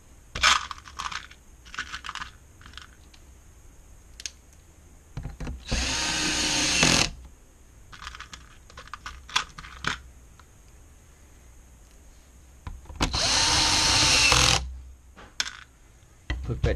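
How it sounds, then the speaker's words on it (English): Power drill driving screws back into an LED backlight panel assembly: two sustained whirring bursts, each about a second and a half, separated by lighter clicks and handling taps, close and fairly loud, no talk. "And put back the screws."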